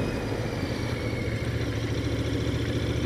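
A Royal Enfield Interceptor 650 motorcycle engine runs at a steady, low idle with an even rumble and no revving, with no talk over it.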